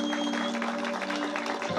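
Brief applause at a village wedding in Güzelyayla, clapping heard under steady tonal music and background chatter.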